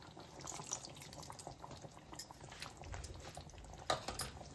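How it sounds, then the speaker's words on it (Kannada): Cold water is poured over jhunka, a gram-flour dish, cooking in a pan, producing a faint trickle and soft bubbling with a brief clatter near the end, quiet and close, with no talking. "ಸ್ವಲ್ಪ ತಣ್ಣ ನೀರು ಬಿಡ್ಬೇಕು ಮ್ಯಾಲಿಂದ."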